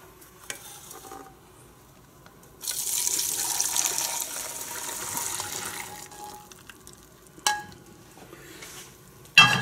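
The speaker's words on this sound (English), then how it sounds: "So straining this ensures that there is no lumps in there." Liquid for pan-fried noodles with chicken and broccoli strained into a small bowl, giving a steady close pouring trickle for about four seconds between quiet stretches, with no talking.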